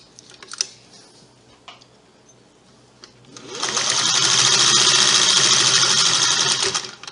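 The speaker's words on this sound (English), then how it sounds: "Mom's sewing machine now works" An old Singer sewing machine, first ticking and clicking softly during setup, then running steadily for about four seconds with a loud, rapid mechanical whir and rattle before slowing to a stop.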